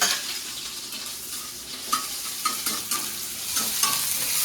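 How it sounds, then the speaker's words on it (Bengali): Sliced onion hits hot oil already seasoned with black cumin and dried red chilli, giving a steady bright sizzle with repeated utensil scrapes and clinks of stirring throughout, close and without talk. "আর এই যে পেঁয়াজ একদম স্লাইস করে রেখেছি এটাকে দিয়ে দিচ্ছি"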